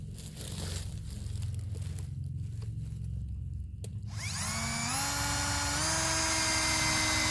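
A power drill drives screws into a rotted 2x4 outdoors: scattered crackling and rustling give way to a loud, steady motor whine that climbs in pitch and then holds as the screw goes in.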